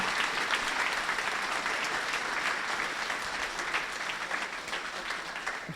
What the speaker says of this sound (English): give a big round of applause to those who put themselves out there and to those who serve